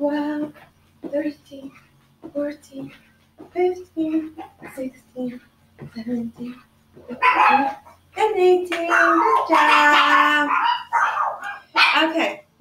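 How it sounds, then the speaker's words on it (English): A pet dog barks in short bursts indoors while a woman counts aloud during a children's morning stretching session, the barks mixed in with her steady speech. "by the way, that's my dog. Sorry about that."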